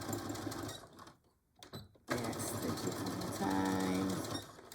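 A sewing machine stitching and back-stitching a Betty Boop pillow cover, a steady close mechanical whirr that briefly stops, then resumes and runs continuously to the end.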